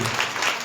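Loud applause from a church congregation for a guest preacher, Rev. Rajesh Joseph, a dense, continuous burst of many hands clapping at once, close and full, with no talk over it.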